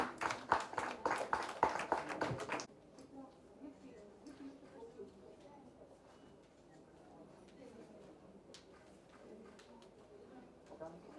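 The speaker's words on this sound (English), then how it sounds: "Give the little ones a round of applause." Audience applause for two children on stage at a book opening ceremony, a burst of dense clapping for about two and a half seconds that then drops to a low murmur of a hall with scattered faint sounds.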